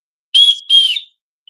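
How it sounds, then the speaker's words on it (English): The built-in whistle of an Opry Pro is blown twice in quick succession, two loud, shrill, close blasts with a brief gap between them, alone without talk. "It's got that built-in whistle."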